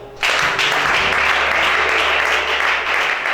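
A church congregation breaks into loud applause, a thick burst of clapping that starts suddenly and holds steady for several seconds, close and full.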